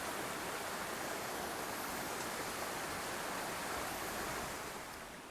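Kinsey Creek on the Lost Coast Trail flowing steadily, a dense, constant rush of water filling the scene at close range with no voices, easing slightly at the end.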